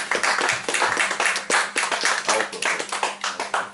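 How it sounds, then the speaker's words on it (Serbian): A crowd at a book event in the Milutin Bojić library claps. Distinct, crisp hand claps form a lively, slightly rhythmic patter that stays steady throughout. "tako da aplauz ide vama prvo"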